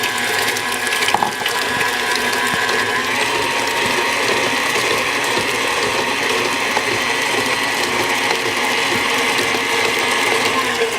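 An electric mixer whisking Victoria sponge cake batter, a constant whirring, gear-like buzz with a rattling edge that runs evenly throughout, close and loud, without speech.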